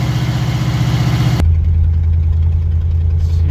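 A 1979 Camaro Z28 V8 runs while warming up, a loud close idle that shifts abruptly from a higher, busier rumble to a deeper, steadier throb partway through, with no talking.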